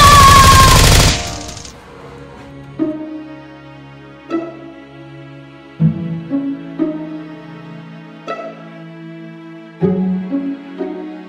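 Toy foam-dart gunfire from Nerf guns in a staged mission: after a loud opening burst, a series of separate sharp shots follows at uneven intervals, each ringing out with a tonal tail, with no talking.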